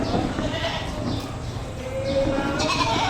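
Sheep bleat at a livestock auction in Padre Garcia, Batangas, several overlapping calls against a busy crowd background with people talking.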